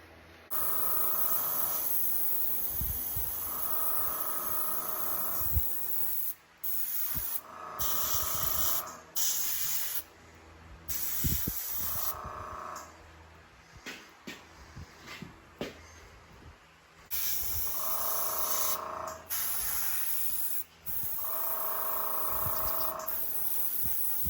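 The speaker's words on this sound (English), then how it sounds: "While we've got the black and brown mix in our airbrush, we're going to go ahead and finish up the nose pad and do right around the inside of the nostrils too" Airbrush hissing as it sprays a black and brown paint mix onto the nose pad and nostrils of a deer mount, in repeated bursts of a few seconds each with short pauses between them, steady and close.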